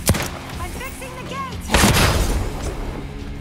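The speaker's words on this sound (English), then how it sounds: "Someone fired the scrap cannon." A scrap cannon fires in the zombie game Overkill's The Walking Dead, landing as a heavy boom with a rumbling tail among other game sounds, with voices faint in the background.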